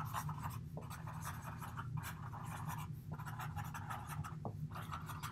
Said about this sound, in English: let me write a definition